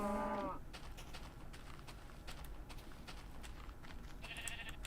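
A single video-game sheep bleat opens, short and wavering, then gives way to a steady low background hum with faint clicks and a brief high tone near the end.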